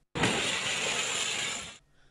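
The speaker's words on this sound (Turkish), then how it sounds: "Ön taraftaysa çarpışmanın etkisiyle ön cam ve kapı paramparça oldu." Windshield and door glass of a metrobus shatter in a crash: a sudden loud, crackling burst of breaking glass that holds for over a second and a half, then cuts off into quiet.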